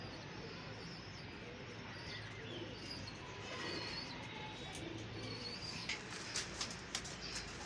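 Pigeons coo softly amid outdoor ambience, with a few sharp clicks or taps near the end and faint chirps in the background.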